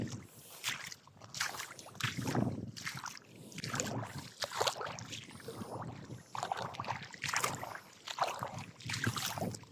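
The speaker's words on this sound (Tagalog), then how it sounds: "Makina." A boat engine runs on open water, a steady, close, broadband churn with surging swells in loudness and wind buffeting the microphone throughout, with no voices.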